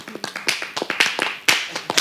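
On a French television show set, hands clap in a quick irregular series of crisp, close slaps, moderately loud and overlapping, with no talking on top.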